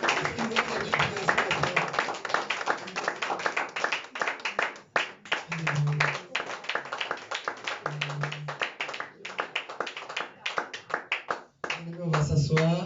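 A church congregation clapping in praise, steady rhythmic handclaps throughout, mixed with voices talking and singing over the clapping.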